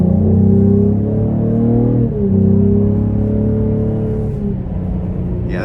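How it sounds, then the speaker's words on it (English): A 2025 Cadillac CT5-V pulls hard in track mode through a corner, its loud, close engine revving in a steady rising drone. Near the two-second mark it dips briefly for a shift, then keeps building. "I'm gonna give it one more pull in the track mode coming around this corner."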